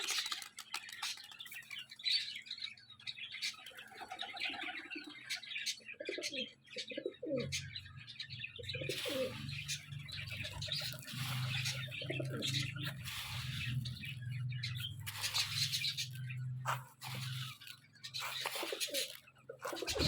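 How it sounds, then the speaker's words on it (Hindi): Pigeons coo and birds chirp around a backyard cage while they wait for grain to be scattered, the cooing carrying through a steady low hum with scattered rustles and small knocks throughout. "अब बारी है सिर्फ पिजन्स की, तो अब इनको दाना डालते हैं।"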